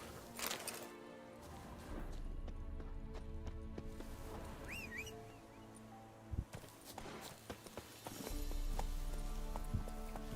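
Roach the horse from Witcher 3 moves through the wilderness, with soft hoof clip-clops, a brief whinny and rustling tack over quiet outdoor ambience, growing heavier and more continuous toward the end.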